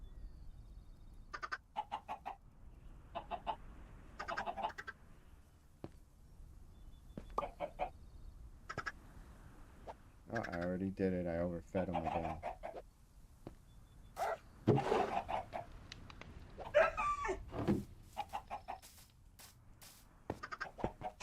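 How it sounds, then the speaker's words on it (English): Chickens on a Minecraft egg farm give scattered short clucks and squawks in the game, with quiet bursts spread throughout and a person talking briefly now and then. "Okay, some more chickens."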